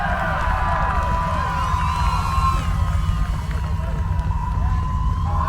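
A crowd at an off-road truck recovery show at The Off-road Games keeps up a steady roar, with rising and falling siren-like whistles or horns wailing over it for the whole stretch.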